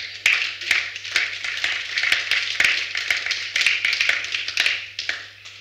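A church congregation at a Friday service applauds, dense clapping with sharp individual claps standing out, fairly close and continuous throughout.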